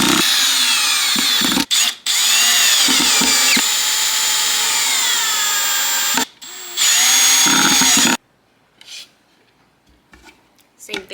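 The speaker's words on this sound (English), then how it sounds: "I'm going to just be putting some screws in these little holes." A power drill drives screws into pre-drilled holes in a wooden beehive box, two loud close whirring runs broken by short stops, then quiet handling clatter.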